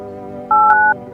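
In the video game No, I'm Not A Human, a single loud telephone keypad tone sounds as a number is dialed: one clean two-pitch beep lasting under half a second over a low background hum.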